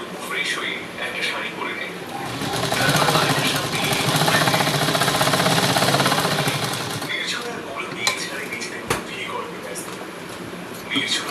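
Sewing machine stitching the fitting seam of a size 36 blouse at a ladies' tailoring shop, a steady mechanical whir that swells louder in the middle and eases off, with a few sharp clicks near the end.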